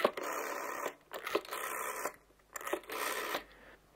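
A telephone is dialed in a few short bursts of tones separated by brief pauses, quiet and close, with no talking.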